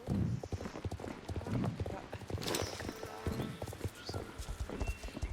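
Horse hooves clip-clop in a video game, a rapid, steady run of close hoofbeats with a horse's whinny breaking through midway, over faint background game sound.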